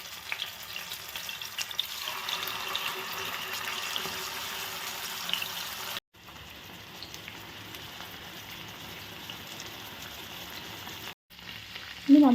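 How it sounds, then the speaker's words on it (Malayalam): Afghani chicken pieces fry in oil in a pan, a steady hissing sizzle that continues for several seconds, briefly interrupted, with no talking. "ഇനി നമുക്കിതിൽ നിന്ന് ഓരോ പീസ് എടുത്ത് ചട്ടിയിലേക്ക് ഇടാം."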